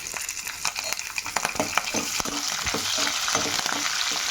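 Green chillies and beans fry in a hot pan, a steady close sizzle with scattered stirring clatters and scrapes throughout, no voices.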